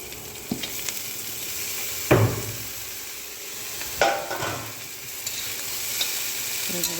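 Parboiled broccoli and onions with chillies stir-fry in hot oil in a wok, producing a constant close sizzle broken by a few sharp scrapes and clatters of stirring.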